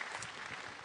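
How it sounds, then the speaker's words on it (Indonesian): Brief burst of steady clapping from a stand-up comedy show audience, a dense even patter with no voices on top. "Tepuk tangan sekali lagi untuk Ferry."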